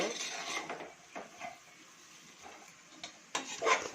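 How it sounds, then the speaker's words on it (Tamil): A spoon stirs vegetable biryani masala in a cooking pot, producing scattered metallic scrapes and clinks at close range over a faint, low background hiss. "நல்லா கலந்துட்டு மசாலாவுடைய பச்சை வாசனை போகிற வரைக்கும் நல்லா கிளறிக்கணும்"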